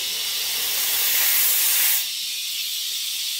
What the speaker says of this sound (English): you can see the steam is releasing, so it's about ready to go. So now what I'll do is I'll just spray this real quick.